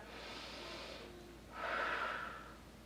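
Two slow, airy deep breaths taken during a seated office-chair yoga stretch, a soft inhale followed by a fuller, louder exhale, close and quiet with no talking.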